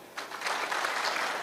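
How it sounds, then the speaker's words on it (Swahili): Applause from a crowd at an outdoor public security forum in Kakamega County, a dense burst of clapping rising quickly and holding steady for about a second. "County commissioner huyo, pigia yeye makofi."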